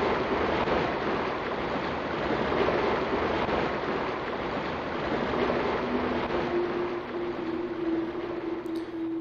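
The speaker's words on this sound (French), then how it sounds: "là-bas il y a des cascades d'égouts" Steady rushing water of sewer waterfalls in the PS1 horror game Hellnight, a continuous broadband roar without pauses, with a faint low hum coming in partway through.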